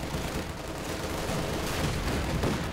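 Dense, continuous gunfire and explosions from the Company of Heroes 2 strategy game, a steady battle wash of overlapping shots with no pauses.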